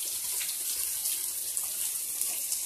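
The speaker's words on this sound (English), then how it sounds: "There we go. We're behind the waterfall." At Devils Den State Park, water pours down a waterfall heard from right behind it, a loud, constant rushing roar with no voices.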